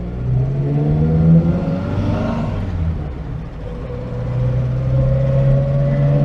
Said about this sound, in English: it sounds quite a lot like a Morris Minor because it is the same engine